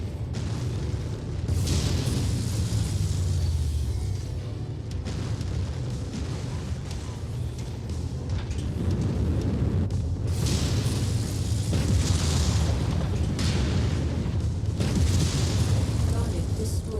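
Buildings blowing up in the MechWarrior video game, with deep rumbling booms rolling over continuous mech engine noise and game sounds throughout, while a voice talks over part of it.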